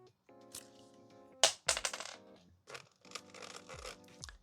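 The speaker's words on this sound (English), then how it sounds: "I'm going to cut this open as well" Plastic action figure packaging being cut open on a floor, with crisp scraping snips, crinkles and tearing plastic in quick irregular bursts, close and fairly loud against faint background.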